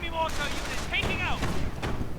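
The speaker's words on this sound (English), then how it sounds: "Getting pelted with auto-cannon fire." Rapid auto-cannon fire in a real-time strategy war game, a dense rattle of shots and impacts that runs throughout at close range, mixed with overlapping battle noise and brief unit voice chatter.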